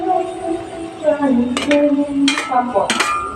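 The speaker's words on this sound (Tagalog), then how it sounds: "Saka natin lalagay ang ampalaya." Sliced bitter gourd tipped into a pan of simmering chicken liver and gizzards: soft background sizzle with three sharp metallic clanks of a utensil against the pan, near and loud, while a voice talks over it.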